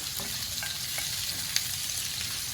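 Garlic butter potato bites fry in a skillet with a steady, close hiss of crackling oil, broken by a few light scrapes and one sharp clink as they are stirred.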